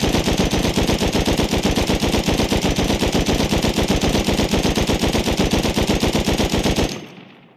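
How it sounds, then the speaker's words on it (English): A handmade machine gun in the Rust game empties a full magazine in one sustained burst of rapid, evenly spaced shots, loud and close, lasting about seven seconds before cutting off abruptly into a short fading tail. "Okay, so handmade machine gun."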